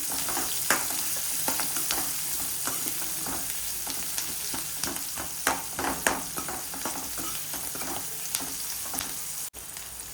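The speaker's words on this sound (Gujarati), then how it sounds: "આપણે જીરું નાખીશું હિંગ નાખીશું અને ડુંગળી એડ કરીશું ડુંગળીને હલાવી લઈશું સારી રીતે" Onion fries in hot oil with cumin and asafoetida in a pan, giving a steady soft sizzle broken by repeated scraping stirs of a spoon, with no talking.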